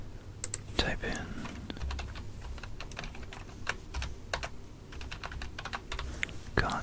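Soft, irregular clicking of fingers typing on a computer keyboard, close and quiet, with brief pauses between bursts of keystrokes during a whispered science session.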